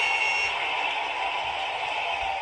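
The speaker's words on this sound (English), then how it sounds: "So buzzer in 5 seconds, but we get a 30-second rest at that." A workout interval timer buzzer sounds between sets, a steady continuous electronic drone holding at even loudness for a few seconds with no talk over it.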